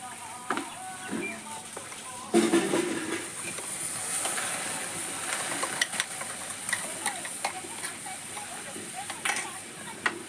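Mustard, ginger and green chilli paste hitting a hot wok with a little water, giving a steady close sizzle and stirring scrapes with occasional clatters, no talk over it.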